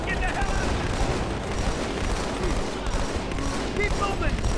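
Rapid gunfire and explosions in the shooter game Halo 2: The Master Chief Collection keep up a dense, continuous barrage of shots throughout, with a player talking over the noise of battle.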